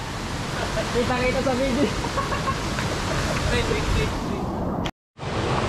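A waterfall at a hillside campground roars steadily, with broad, continuous rushing noise heard close by. Several people talk over it, and the sound cuts out briefly near the end.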